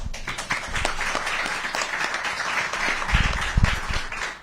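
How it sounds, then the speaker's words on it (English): An audience at a Jacksonville governor's roundtable bursts into brisk, dense applause, many hands clapping close by for several seconds and rising slightly toward the end. "I'm sure the clapping was for him, not for me"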